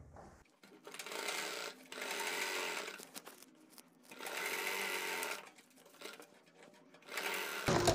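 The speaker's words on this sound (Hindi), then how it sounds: "पैटर्न की किनारी पर हम सिलाई लगाकर पैटर्न को भी अटैच कर देते हैं।" Sewing machine stitching a white pattern trim onto the neckline of a kurti front, running in four steady bursts with short pauses between, close and clear with no talk.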